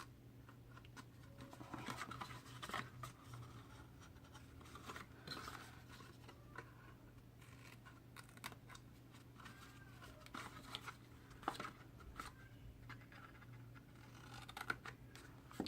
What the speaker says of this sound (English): Just makes it easier for this flap to get into the box when you give it a little cut like that